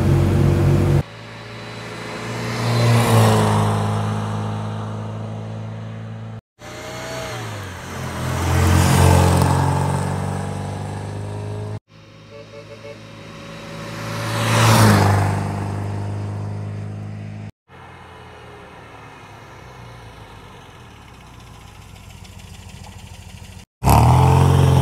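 Engine of a 1974 MG B Cabriolet, a European-spec convertible, idling and then revving up and settling back in three rising-and-falling swells, loud and close, with no one talking.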